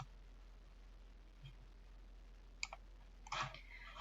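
A computer mouse clicks a few times, quiet and close, one light click followed by a short cluster of sharper clicks over a low steady background hum, no talking.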